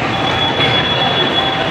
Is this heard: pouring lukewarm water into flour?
no